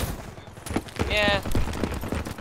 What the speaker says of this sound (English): It is super hard to shoot people while you're wall running.